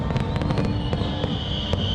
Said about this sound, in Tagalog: meron ka ng drone show at may pa-fireworks display pa yan